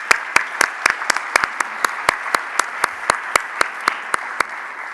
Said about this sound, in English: Give so a round much. of applause for our first panel.